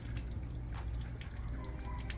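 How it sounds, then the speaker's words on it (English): Water runs steadily down a vehicle's glass window treated with a ceramic glass cleaner, a continuous close splashing and trickling wash with no speech. "compared to that side, the water is falling down."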